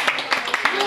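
An audience at a live music evening in a bookstore in Calafat claps in a quick, steady rhythm for about a second, with a voice heard over the clapping.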